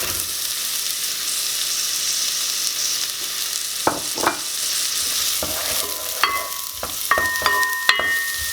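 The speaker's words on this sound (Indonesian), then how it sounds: "tumis sampai harum." Garlic and onion sauté in a pan for lasagna, a constant loud hiss of frying with scattered utensil scrapes and metallic clinks growing busier toward the end.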